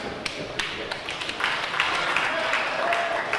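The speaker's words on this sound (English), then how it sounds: "Nice applause there for young Tim Lennox" Wrestling crowd applauding young wrestler Tim Lennox at a small indoor show, scattered claps at first building into steady clapping, heard under a commentator's voice.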